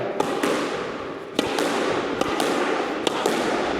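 Squash ball volleys cracking against the front wall during backhand drills, several sharp hits at irregular intervals over a steady court ambience.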